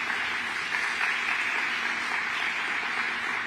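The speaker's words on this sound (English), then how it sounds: "Nice round of applause for all of them." Audience applause for a congressional office staff at a fireside chat gathering in Ohio, a steady, even wash of clapping from a room of people, moderately loud and continuous with no talk over it.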